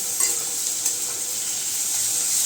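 Cashews dropped into a hot pan of cooking semolina for a spicy suji, a bright steady sizzle with a light scrape of stirring near the start, close and continuous with no voices.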